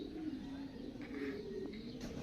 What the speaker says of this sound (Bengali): এখানে অনেক কবুতর